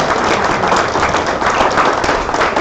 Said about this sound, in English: So let's give a round of applause again to Rick Upper for the great